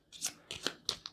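A deck of game cards from the tabletop card game Knights of the Hound Table being shuffled, with three quick riffling bursts close by and brief pauses between them.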